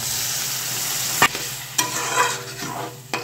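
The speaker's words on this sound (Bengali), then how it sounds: "গ্যাসের আঁচটাকে এখন মিডিয়ামে রেখে এগুলোকে ভাজা ভাজা করে নেব" Spices for a restaurant-style egg curry fry in oil over a medium gas flame, a continuous close sizzle broken by several sharp scrapes and knocks of a spoon stirring against the pan.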